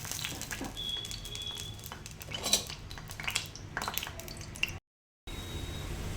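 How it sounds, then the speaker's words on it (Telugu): Sliced onions fry with cloves and cinnamon in a pan for Hyderabadi-style green chicken. A low sizzle runs under irregular clinks and scrapes of a metal spoon against the pan, broken by a brief moment of silence near the end. "లవంగ చెక్క ఫ్రై అయ్యాక ఉల్లిపాయలు అయితే ఫ్రై అవుతున్నాయి."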